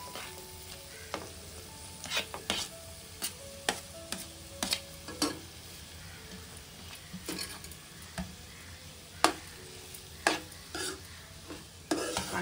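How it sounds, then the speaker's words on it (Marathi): Grated paneer being stirred into a frying onion and tomato masala for paneer bhurji, a low sizzle broken by repeated sharp scrapes and clatters of a spoon against the pan, no talking. "आता पनीर, किसलेलं पनीर टाकते त्याच्यामध्ये।"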